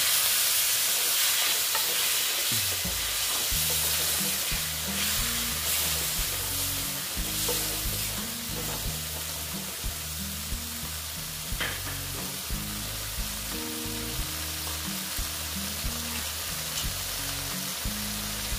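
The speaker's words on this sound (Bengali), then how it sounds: "এবার আমি একটু জল অ্যাড করছি" A soybean and chickpea lentil curry hisses and bubbles in a pan as water is added, a loud burst of sizzle settling into steady frying with stirring scrapes, close and without speech.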